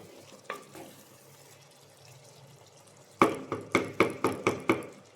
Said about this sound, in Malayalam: ആ തക്കാളി നന്നായിട്ട് വെന്തുടയൊന്നും വേണ്ട, എന്നാൽ കുറച്ച് വേഗം ഒന്ന് ഇളക്കുക.